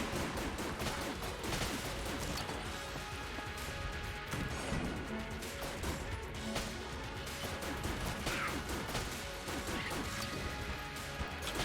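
The hegemony rifle fires in Enter the Gungeon amid rapid, chaotic combat, loud crashing impacts and rattling bursts overlapping almost continuously with sharp hits and clatter throughout.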